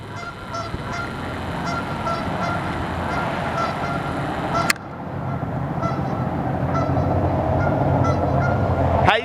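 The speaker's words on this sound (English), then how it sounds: "it seems like there's a goose over here freaking out" A goose honks repeatedly and agitatedly at an industrial warehouse, short calls spread across the span over a steady outdoor rumble, with a sharp click midway and no talking.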